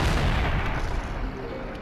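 Doom Shroom explosion in the Plants vs. Zombies 2 video game: a loud, deep boom at the start that rolls into a rumbling, crackling decay over nearly two seconds, with no talk over it.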